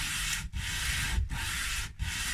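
Sandpaper rubbing on part of an Epiphone Pelham Blue ES339 guitar during a setup, three steady back-and-forth strokes of loud, close, hissy abrasion with brief pauses between them.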